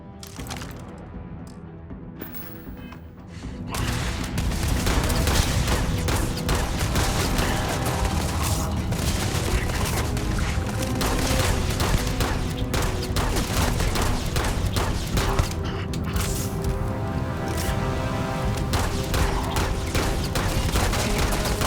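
Sustained, dense gunfire from a Starfield firefight, with a quiet opening giving way to continuous rapid shots and crackling impacts that stay loud throughout.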